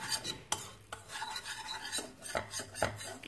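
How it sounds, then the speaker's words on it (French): A utensil stirs and scrapes flour into melted butter in a pan over medium-low heat, making soft repeated swishing strokes with a few sharper clinks against the metal. "on va venir remuer pour incorporer la farine avec le beurre"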